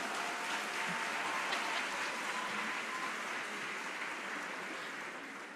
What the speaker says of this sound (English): I'm gonna clap him loud, loud.